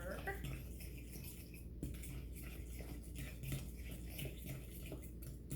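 Egg being mixed into banana bread batter in a bowl, utensil clinking and scraping against the dish with soft rhythmic stirring, faint and close under a voice speaking.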